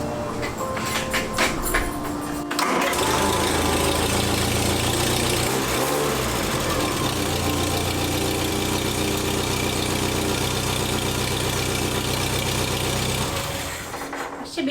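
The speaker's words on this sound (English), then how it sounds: "So we need to crank it up and get some oil into the filter." An MG Midget engine cranks briefly, then catches and runs at a steady, loud idle after an oil change, the rough running hum continuing close for about ten seconds before dropping off.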